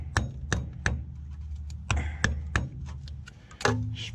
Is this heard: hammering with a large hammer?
yes